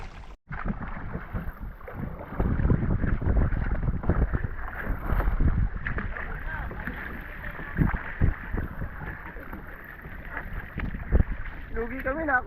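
A kayak paddles on water at Sandy Lum beach resort, with soft splashes and rushing water mixed with wind buffeting the microphone, while people chat and call out over it.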